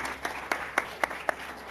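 A church congregation claps in a slow, regular beat, about six distinct claps spaced evenly, soft and somewhat distant in a reverberant hall.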